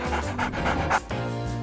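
A dog pants in quick, steady breaths close by, a rhythmic huffing loop that runs alone with no talk.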